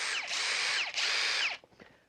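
Cordless impact driver, a Ryobi or Makita, whirring loudly at close range in two short bursts of high-pitched motor whine that slow as it winds down, followed by faint clicks.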